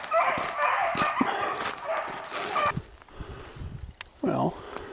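Hare hounds on a swamp hunt giving voice as they run, yelping and baying in a busy pack close by, with a lone howl near the end and a person moving along the road.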